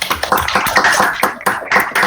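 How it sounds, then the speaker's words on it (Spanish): Applause from an audience closing a scientific seminar talk on tumour self-organisation, a dense steady patter of many hands clapping at moderate loudness, with no talk over it. "Así que si les parece, aplaudimos nuevamente al speaker."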